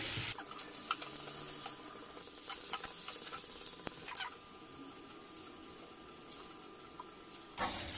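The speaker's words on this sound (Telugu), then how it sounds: "మీడియం ఫ్లేమ్లో ఎర్రగా వేయించండి." Bitter gourd slices fry in oil over a medium flame, giving a quiet, even sizzle with occasional utensil clicks and stirring, no speech.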